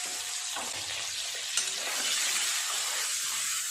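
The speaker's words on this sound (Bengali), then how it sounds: "তেল গরম হয়ে গেছে, সব ডিমগুলো একসাথে দিয়ে ভাজা করে নেব।" Several eggs crackle and sizzle in hot oil in a pan, a steady, bright frying hiss that swells slightly after a brief sharp tap partway through.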